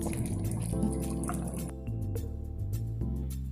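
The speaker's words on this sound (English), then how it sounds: "Just listen those bubbling sound, guys." Chicken pumpkin soup bubbling in a pot, with soft wet pops and drips over a steady low simmering rumble, close up with no talking.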